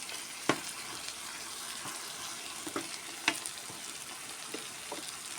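Chicken pieces and potatoes cook together in a pan for chicken kurma, giving a steady frying sizzle with a few sharp clicks and stirring knocks spread through the clip, no voices.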